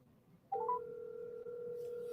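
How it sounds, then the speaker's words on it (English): A phone call placed from a new mobile handset: after a quiet start, a steady two-tone ringback tone comes in and holds without a break, fairly loud and clear, with no talk over it. "I thought it was going to answer after one ring."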